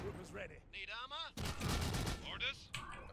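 Artillery firing in the Iron Harvest strategy game, heavy booming blasts with a dense burst of explosions in the middle, mixed with game effects and a voice talking over it.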